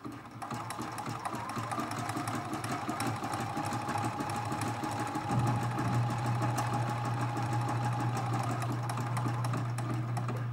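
Sewing machine running a zigzag stitch with black thread on a quilt-as-you-go block, a continuous close mechanical whir with fast rhythmic needle chatter that shifts to a steadier, slightly lower hum partway through.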